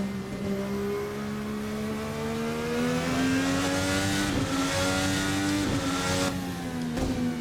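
VRC Formula NA 2018 race car with a 12,000 RPM red line revving hard close by, its engine note climbing steadily in pitch through the rev range, loud and continuous with brief dips at gear changes and no talk.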